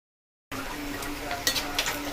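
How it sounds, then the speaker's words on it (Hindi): Bread pakoras go by hand into hot frying oil, a steady close sizzle that starts abruptly after a brief silence. Small pops and bubbling bursts rise over it as the pieces land. "इस तरह से आप हाथ से भी छोड़ सकते हैं"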